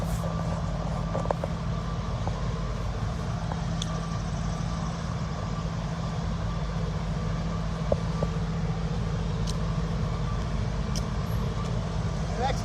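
Cement spreader truck working ahead of a cold in-place road recycling train on a street, with a steady heavy diesel engine drone and rumble throughout, loud and close, with occasional faint clanks.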